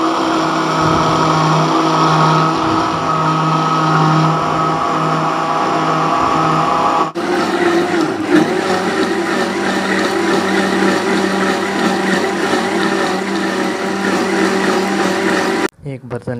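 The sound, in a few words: blender blending guava juice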